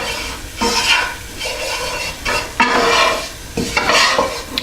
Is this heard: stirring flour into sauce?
yes